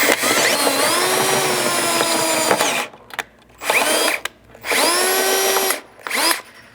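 A power drill whines loudly and steadily for several seconds while drilling holes to install a skid plate on a Ford Maverick, then runs in shorter bursts separated by brief pauses as the bit slips in the chuck, close up with no voices.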